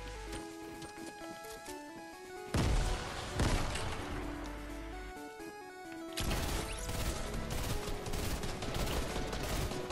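Gunfire in the video game Fortnite: bursts of rapid shots and sharp cracks, loud and close, with heavier volleys after the first few seconds and continuing fire to the end.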